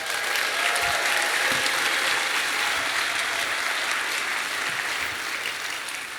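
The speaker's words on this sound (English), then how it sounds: "Give Ollie a round of applause." An audience at a science talk at the bluedot 2019 festival applauds for a boy named Ollie, a dense, steady round of clapping from a large crowd that holds strong for several seconds before easing slightly.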